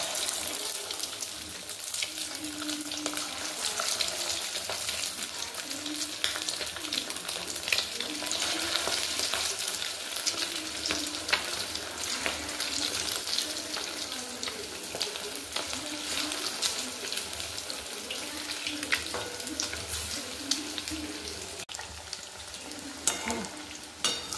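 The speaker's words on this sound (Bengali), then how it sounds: "এবার কড়াইয়ের মধ্যে আমি অল্প অল্প করে চিকেনটা দিয়ে দিচ্ছি" Chicken pieces for chicken manchurian fry in hot oil in a wok, a loud continuous sizzle and bubbling with occasional stirring scrapes, close and dense throughout.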